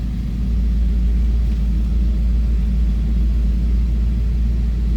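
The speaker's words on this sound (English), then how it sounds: "Push that pedal, start the car up." A 1956 Buick Special engine runs steadily with a deep, constant low rumble, close and even throughout, with no talking.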